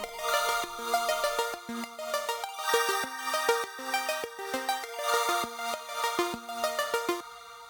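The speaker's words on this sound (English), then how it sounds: "I also have some arpeggios doing this chord progression" Synth arpeggios made in Ableton Wavetable cycle through a chord progression, a bright, steady stream of rapid plucked notes with layered harmonics and sustained tones beneath, playing alone and fairly loud throughout.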